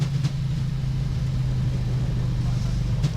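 Thrust reversers of a Boeing 737 MAX roaring after landing, heard from the cockpit as a steady, loud low-pitched rumble and whine that holds even throughout, with no voices in this stretch.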